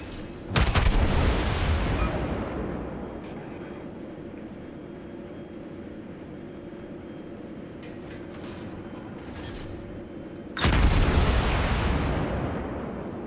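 Cruiser Mikhail Kutuzov firing its naval guns in World of Warships, two loud booming salvos several seconds apart, each decaying into a long rumble.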